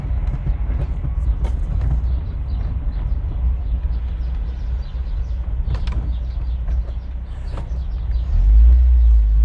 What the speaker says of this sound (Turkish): Ses klasik Doğan Şahin sesleri diyebiliriz. Debriyajda çok alttan kavruyor.